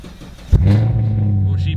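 A salvage Corvette Z06 cranks and catches with a sudden start, then settles into a low, steady idle rumble close by.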